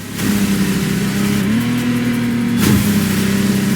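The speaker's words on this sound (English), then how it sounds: "The contestants need to push their engines." Car engines rev continuously during a race in The Crew Motorfest video game, a loud sustained drone that climbs in pitch, with a brief whoosh of a passing car near the end.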